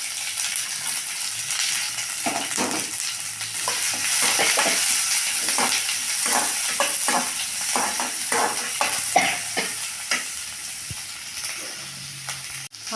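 Chopped large onion with green chili and dried red chili fries in a pan, a steady sizzle broken by repeated scraping, clinking stirs of a spoon against the metal, close and loud.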